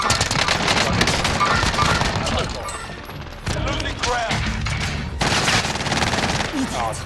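Sustained automatic gunfire in the video game Warzone, dense rapid bursts filling the clip with only brief gaps, loud and close, with occasional voice chatter mixed underneath.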